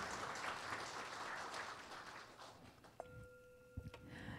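Quiet crowd applause welcomes elders, rinpoches and masters at a temple gathering in Seattle. The clapping fades out after a few seconds, and a sustained ringing tone follows, struck again near the end.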